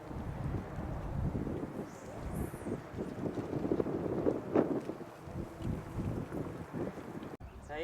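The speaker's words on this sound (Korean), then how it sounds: "지금 완전 저한테 맞바람이 불고 있거든요" Strong headwind gusting across a freshwater fishing spot, a steady rough roar buffeting the microphone throughout with brief quieter lulls and a sudden drop near the end.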